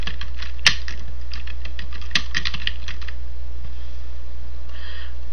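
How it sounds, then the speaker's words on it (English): Keys clatter on a computer keyboard in quick, close bursts of light clicks, with a couple of sharper taps, over a steady low hum. "Type in your page title."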